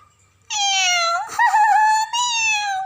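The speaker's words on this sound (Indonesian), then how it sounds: "Mereka tertawa dan mengeong." Kittens playing with a bouncing ball let out a long, close, high-pitched meow that wavers and breaks into a few connected cries, loud and clear with no talk.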